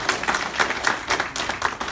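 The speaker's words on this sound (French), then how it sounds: "Il faut applaudir les Kabiens." Crowd applause at a Togolese political gathering in New York, dense irregular clapping from many hands filling the room at steady loudness, with no voices over it.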